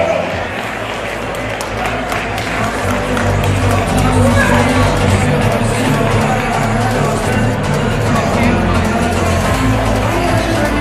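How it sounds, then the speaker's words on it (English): At a live boxing event the arena crowd claps and cheers in a dense, loud, continuous wash, while an announcer's amplified voice carries over the noise. "a big round of applause for Vince Vanderpool"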